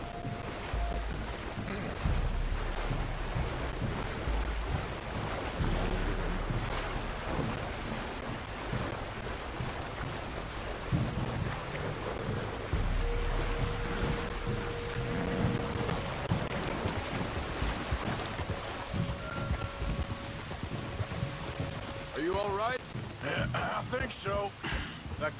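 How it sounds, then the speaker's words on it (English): Strong river current rushing steadily in a Red Dead Redemption 2 outdoor scene, a continuous broadband wash of water with wind, running throughout under occasional talk and game sounds. "We need to get across this river. Just here should be okay. The water is shallower, but the current still looks strong"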